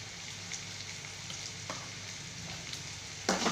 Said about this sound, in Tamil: கொஞ்சமாக அந்த வெங்காயம் பூண்டுலாம் வதங்கி